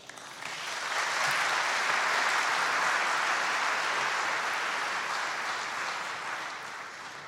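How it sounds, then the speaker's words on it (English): A large audience gives the Lieutenant Governor of Georgia a sustained round of applause that builds quickly, stays full and loud, then tapers slightly at the end, with no talking. "Let's give our Lieutenant Governor another round of applause."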